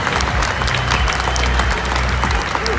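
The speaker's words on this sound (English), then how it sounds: "a big round of applause for everybody who came on stage to ask Katy some questions." Audience applause fills a hall at a Final Fantasy Brave Exvius fan festival, steady dense clapping with crowd murmur, loud and close, with no speech over it.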